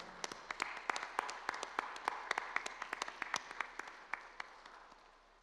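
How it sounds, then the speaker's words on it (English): Applause from an audience at a victims' rights recognition ceremony honouring standing advocates and staff, sparse and fairly distinct claps at first, thickening into a moderate round and then fading toward the end. "Let's give them a round of applause."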